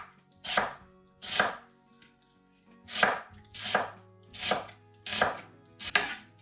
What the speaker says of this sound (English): And now we cut this onion like this.